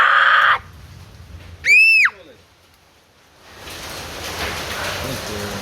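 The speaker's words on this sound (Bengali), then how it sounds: "আমাদের এখানে শিলা বৃষ্টি হচ্ছে" Heavy rain with hail arrives after a quiet gap and builds into a dense, steady roaring hiss of falling water and ice. Earlier, a shrill cry and a rising, swooping voice sound out briefly.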